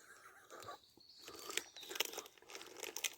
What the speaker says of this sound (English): You probably just hear me crunching and crisps now